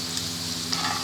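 Aloo pakoras frying in hot oil, a steady close sizzle with brief scraping stirs as the fritters are lifted out.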